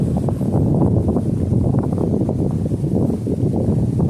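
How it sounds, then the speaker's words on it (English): Steady low wind rumble buffets the microphone outdoors at Gemini Springs, a constant dull roar with no voices and no other clear sounds. "Pretty windy out here today too"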